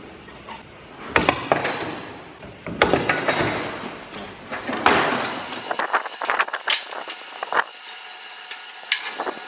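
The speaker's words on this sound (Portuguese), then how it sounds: "Eu dou uma martelada aqui, deixa essas duas pontas retas" Metal is hammered on a workbench while an iron bar is straightened, with several heavy ringing blows and a scatter of lighter clanks and knocks, close and loud.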